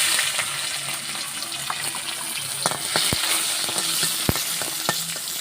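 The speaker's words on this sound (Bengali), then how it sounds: "ভাজা ভাজা করে নেবো রসুনটা।" Crushed garlic fries in hot oil with nigella seeds, a steady dense sizzle broken by sharp crackles and pops, close and loud throughout.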